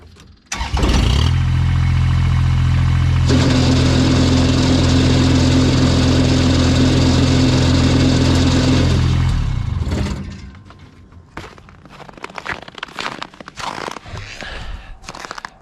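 A Kubota BX2680 compact tractor with a snowblower attached starts up and runs loud and steady for about nine seconds close by, then the engine drops away, leaving quieter knocks and handling noises.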